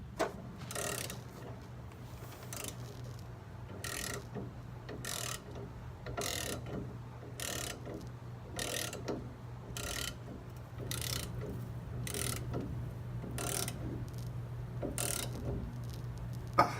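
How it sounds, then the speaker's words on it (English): A ratchet is cranked by hand on a ball joint press, forcing a new lower ball joint into place: a steady run of sharp, evenly spaced clicking bursts over a low mechanical hum, close and moderately loud. "so now all I have to do from here is crank on that ratchet"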